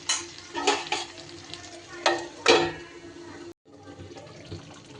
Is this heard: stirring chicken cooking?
yes